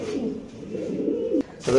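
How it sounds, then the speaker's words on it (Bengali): Black Lahori pigeons coo in a farm loft, soft low rolling calls repeating close by, with a louder burst near the end. "এখানে আছে এক পেয়ার কবুতর মডার্ন"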